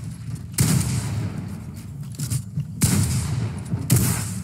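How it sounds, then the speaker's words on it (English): Gunfire in a video game, with several loud sharp shots cracking over a constant background of game noise, spaced a second or two apart. "Did you just shoot me?"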